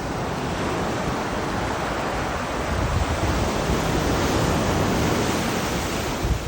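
Ocean waves and surf wash steadily along Kaanapali Beach in Hawaii as a small swell rolls in. The broadband roar is loud and continuous, mixed with wind buffeting the microphone.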